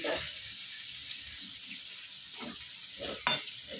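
A little water goes into a pan of frying potatoes with soaked poppy seed and ridge gourd, bringing a soft hiss and sizzle with a few short splashy bursts near the end and no talk.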